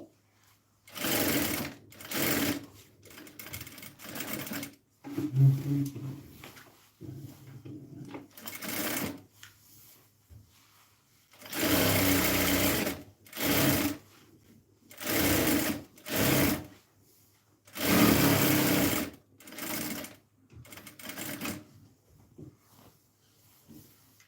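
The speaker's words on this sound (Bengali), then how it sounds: "সাইড সেলাই করা শেষ অন্য সাইড সেলাই করে নিচ্ছি আমি" Sewing machine stitching the side seam of a kameez in bursts of fast, steady stitching separated by short pauses, close and fairly loud, with no talk.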